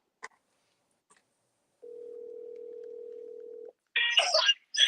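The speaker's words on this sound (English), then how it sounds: "That was like a half a ring" A steady electronic telephone tone holds for nearly two seconds. A brief warbling ring follows, cut short, then starts again faintly.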